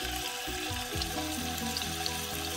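A lamb rib lowered into hot frying oil sets off a steady bubbling sizzle, close and moderately loud, with a wet crackle that swells after the meat goes in.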